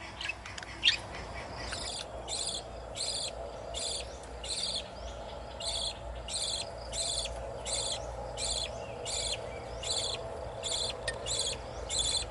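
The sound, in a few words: baby budgie chicks chirping in nest box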